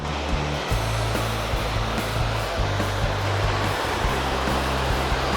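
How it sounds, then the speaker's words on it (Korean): A strong mountain valley stream rushes loudly and steadily close by, a continuous broadband roar with no pauses. "오 여기는 그냥 계곡 물살이 엄청 센데요"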